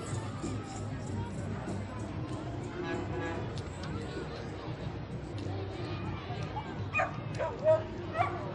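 Dogs from a puppy rescue that saves pregnant dogs bark and yip repeatedly at a Christmas parade in Kannapolis, over a steady crowd murmur and a voice on a loudspeaker.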